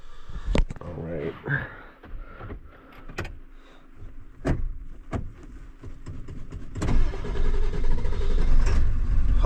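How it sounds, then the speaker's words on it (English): An old car in the rain cranking and starting, with several sharp clicks and clunks followed by a rising, steady engine rumble near the end. A person talks throughout. "Let's see if it'll crank."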